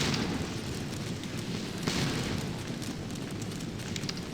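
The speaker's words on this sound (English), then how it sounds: "we're getting hit with some artillery here" Dense, continuous rumbling of artillery explosions in the Napoleonic battle game Scourge of War: Waterloo, a heavy, steady roar of booms with no clear gaps between them.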